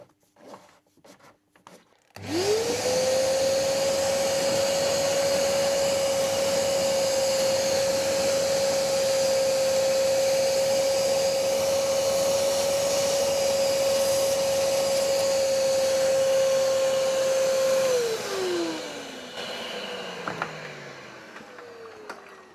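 A wet vacuum sucks water from the flooded interior of a Mercedes W203 with blocked drains, starting abruptly and holding a loud steady whine for about fifteen seconds before it spins down with a falling pitch.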